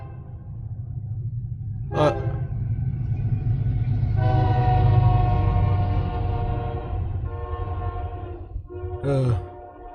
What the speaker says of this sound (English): It's a freight train going by